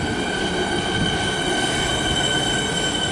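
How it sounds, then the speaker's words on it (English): A Siemens electric train pulls into Clayton station in Melbourne on a Pakenham service, with a steady loud rumble of rolling wheels and a sustained high squeal from the wheels throughout. "And a Siemens set arriving for a Pakenham service."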